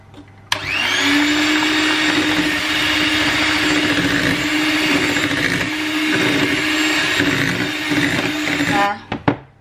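An electric mixer beats Sicilian sesame cookie dough for biscotti regina after an egg is added, running as a loud, steady whirring drone for about eight seconds before cutting off with a few clatters.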